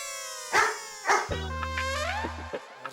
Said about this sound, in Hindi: अरे शेरू, अरे भाई मत भौंक